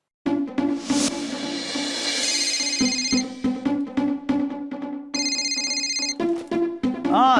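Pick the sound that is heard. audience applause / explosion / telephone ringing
telephone ringing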